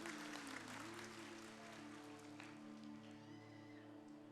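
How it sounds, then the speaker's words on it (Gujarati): Audience applause at a religious discourse, a steady, fairly faint patter of many clapping hands with a held musical drone underneath, gradually tapering. "તાળીઓના ગડગડાટથી વધાવી લ્યો"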